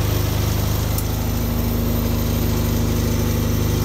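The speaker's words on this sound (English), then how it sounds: "So I'll just stop this lathe now" Myford ML7 lathe motor running steadily after a screwcutting job, a constant close mechanical hum with a regular fine ticking and no audible slowdown to a stop.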